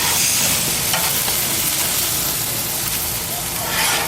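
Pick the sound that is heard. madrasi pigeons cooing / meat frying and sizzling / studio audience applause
meat frying and sizzling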